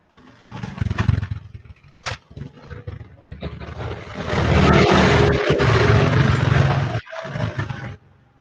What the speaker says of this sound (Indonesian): masih terdengar suara motor